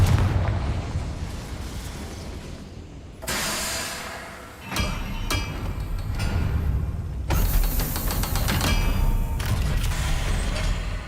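An explosive Confringo spell blasting in the Hogwarts Legacy video game on Xbox Series X, with several loud bursts and crackling impacts over rumbling game ambience, the blasts arriving in irregular succession.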